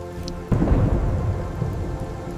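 Rain falls steadily through the night as a heavy rumble of thunder breaks in loud and close and then rolls on under the downpour.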